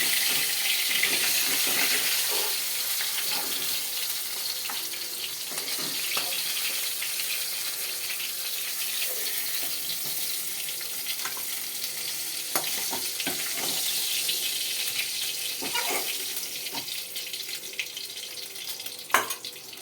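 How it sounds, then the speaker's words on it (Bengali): Fried hilsa fish heads are lifted from hot oil, which sizzles loudly and continuously while a utensil clicks and scrapes now and then, with one sharp knock near the finish. "দেখো আমার ইলিশ মাছের মাথাগুলো ভাজা হয়ে গেছে। আমি এবার এগুলোকে তুলে নিচ্ছি।"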